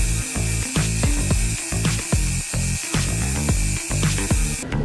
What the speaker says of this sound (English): And then polish it with sandpaper.